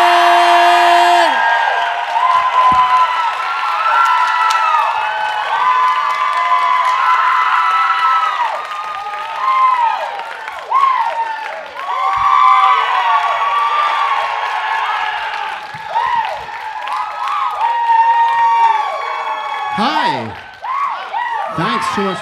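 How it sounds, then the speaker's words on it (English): An audience cheers, whoops and shouts with excitement for Dr. Alan Martin, a loud sustained crowd roar with children's voices and speech mixed through it, fading out near the end. "We're going to give a big round of applause for Dr."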